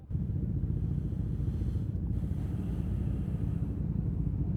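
Suzuki SV650S motorcycle engine roaring steadily and loudly up close for a wheelie on a London street, with wind buffeting the microphone throughout.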